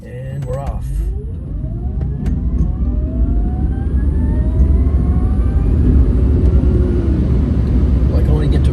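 An Electra Meccanica SOLO electric car accelerating from a standstill toward about 40 miles an hour in traffic, with a rising electric whine that climbs steadily in pitch over loud road and wind rumble.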